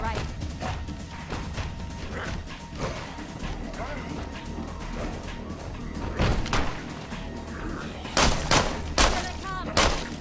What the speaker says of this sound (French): Série de tirs en pleine tête